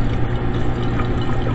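Hot water poured through a funnel into a room-temperature glass, a loud, continuous rushing pour held steady throughout with no talking.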